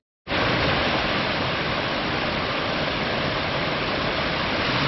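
Water pours steadily over stones at the Steinerne Renne waterfalls, a loud, dense, unbroken rush that starts abruptly and holds constant with no voices.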